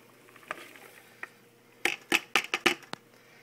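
Quick scraping and clattering strokes of a utensil stirring vegetables in a frying pan, a few light knocks first, then a burst of brisk stirs.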